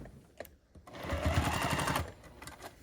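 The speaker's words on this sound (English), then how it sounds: "So first, I just sew the binding on" A sewing machine stitches binding onto a quilted placemat with a 1/4 inch seam allowance, giving one close, steady mechanical whir of about a second, with brief handling clicks before and after.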